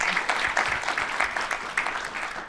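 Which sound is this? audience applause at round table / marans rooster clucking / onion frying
audience applause at round table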